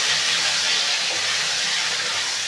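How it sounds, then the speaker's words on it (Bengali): Boiled taro stolons hit hot oil in a pan already tempered with spices, giving a loud, continuous broadband sizzle that holds steady from start to finish, close up and free of any voices. "এবার এই তেলের মধ্যে সেদ্ধ করে কচুরগাঠিটা ঢেলে দেবো"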